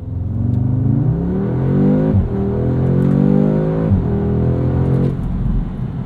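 A 2022 Audi S3 accelerates hard through several gears, its engine note climbing steadily and dropping at each quick shift, loud and heard from inside the car with no talk over it.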